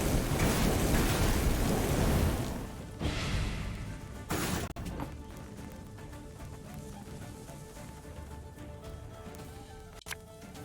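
A storm in the video game Thronebreaker: heavy rain and deep rolling thunder roar loudly at first, then ease into a softer patter, with a sharp crack midway.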